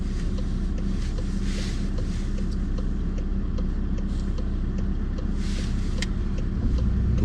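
A car pulling away on a driving lesson, a steady engine and road drone heard from inside the cabin, level and continuous, with a faint wind rush and no speech.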